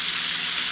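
Onion and garlic fry in a pan for tacos, a dense, even hiss of sizzling oil heard alone and up close for a brief moment.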